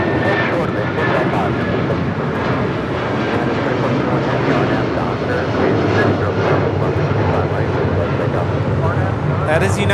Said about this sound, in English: That is United Airlines flight 1400 departing to Chicago O'Hare on a 757-300